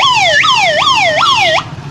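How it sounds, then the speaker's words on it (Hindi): A police car siren wails in repeated smooth rising and falling sweeps, loud and close, about three cycles before cutting off abruptly. "पुलिस के गाड़ी की आवाज"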